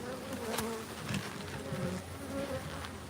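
Honeybees swarming around a wooden hive box, a dense steady buzz of many insects close by, with individual bees droning past, no talk.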